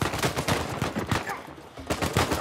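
Rapid gunfire in the video game Uncharted 4, dense bursts of automatic shots crackling one after another, loud and close with a brief lull midway before firing resumes.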